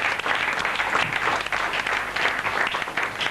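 A church congregation at a prosperity seminar applauds together, a steady dense wash of many hands clapping for several seconds, fairly close and even in level with no pauses.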